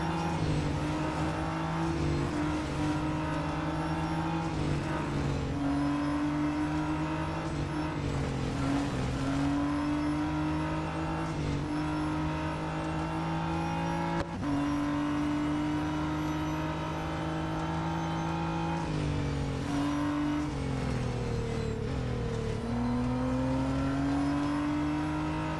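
Race car engines in the Real Racing 3 video game drone steadily and loudly throughout, with pitch rising and dropping through gear shifts as cars accelerate down the track.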